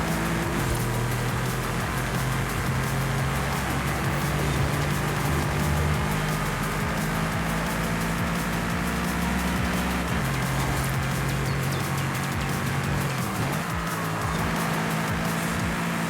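Supercharged car engine in GTA V droning loud and steady with a sustained high whine, the pitch dipping briefly twice as if shifting gears, alone without talk.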